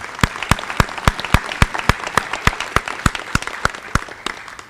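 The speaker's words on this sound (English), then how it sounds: "Let's give her a round of applause." Steady applause fills a senior awards assembly as an audience claps for a student's soccer honors, dense rapid hand claps of moderate loudness with no voices over them.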